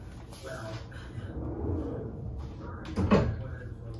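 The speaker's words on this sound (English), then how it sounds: "shut the door" A single kitchen door thuds shut at close range, a short solid knock over a steady background of room noise.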